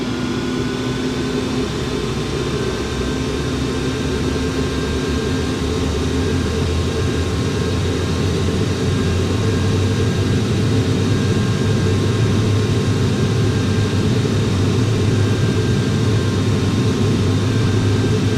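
Airliner jet engines in Flight Simulator 2004 roaring steadily at takeoff power, a loud continuous rumble with thin high whines layered on top, with no voices over it.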